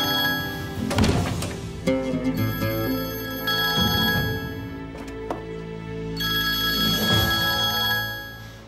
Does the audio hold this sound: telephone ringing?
yes